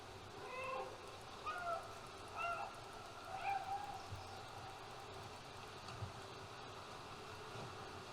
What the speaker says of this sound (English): this fake cat meowing thing